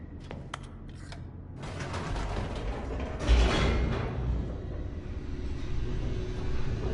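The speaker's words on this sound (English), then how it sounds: "The elevator raced downward, plummeting towards an unknown fate." An elevator plunges downward in The Stanley Parable: Ultra Deluxe, with a few sharp mechanical clicks, then a continuous grinding, creaking rumble that swells briefly and keeps rattling along steadily.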